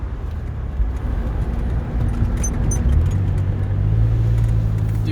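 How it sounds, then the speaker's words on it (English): A 2001 Porsche 911 Carrera 4 (996) on its stock exhaust accelerates from inside the cabin, a steady low engine drone that rises in pitch and grows slightly louder as it pulls, with no voices. "Dang, that is loud for a stock exhaust"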